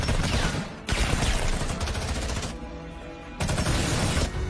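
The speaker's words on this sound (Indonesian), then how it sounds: "Payu langsung menembak sehingga baku tembak pun kembali terjadi." Gunfight in an action film: dense bursts of rapid gunfire, loud and close, breaking off briefly twice before resuming, with no talking.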